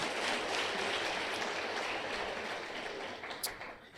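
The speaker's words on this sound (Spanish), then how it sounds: "dale el mejor aplauso que tú puedas ahí al Señor por su palabra" A church congregation applauds the Lord after a sermon by Pastor Otoniel Font: dense, steady clapping from many hands fills the whole stretch, loud and continuous, easing off slightly near the end.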